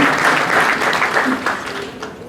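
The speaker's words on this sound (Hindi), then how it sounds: "जोरदार तालियों के साथ 2य स्थान है" An audience in a hall claps loudly to honour a second-place finisher, continuous dense applause that tapers off slightly near the end.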